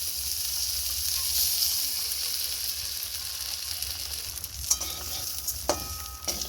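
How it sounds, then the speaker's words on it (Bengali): Rice for rice vermicelli payesh fries steadily in a pan with a continuous soft sizzle, with a few light clinks of a stirring utensil near the end and no talking. "চালটা একটু আমি ভেজে নেব।"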